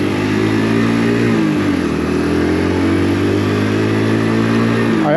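A Mutt GT SR 125 motorcycle pulls away hard in first gear, its engine note loud and close, revving up, dipping briefly as it shifts, then climbing steadily again for several seconds.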